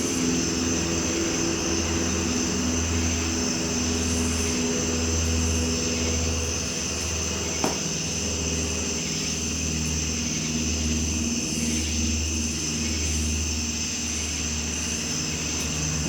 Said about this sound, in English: Helicopter flying.